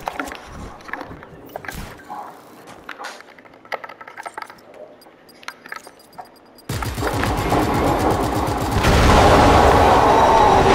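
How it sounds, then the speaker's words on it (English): A huge explosion in Just Cause 3 bursts in suddenly, a dense, loud roar following scattered clicks and quiet game sounds, swelling even louder toward the end. "That was the biggest explosion ever."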